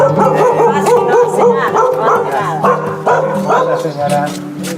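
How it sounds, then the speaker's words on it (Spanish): A dog barks repeatedly at close range on a rural property in a fracking area, with yips and whimpers mixed in. People talk over and between the barks. "Ah, es su perrito"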